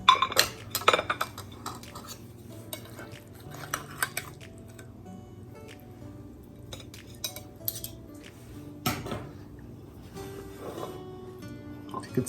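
Meatloaf being served from a pan onto a plate, with steady dish and cutlery clinks and scrapes scattered through the scene, plus a few sharper clanks of utensils against the pan.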